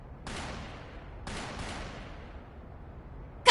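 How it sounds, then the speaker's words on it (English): Distant gunshots from the next district in the video game The Legend of Heroes: Trails Through Daybreak 2, a few booming reports with long decaying echoes, then a sharper burst close by. "Gunshots! From the next district!"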